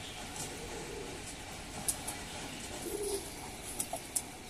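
Pigeons on a rooftop cooing softly in the background over a low steady hum, with a few faint brief chirps and taps.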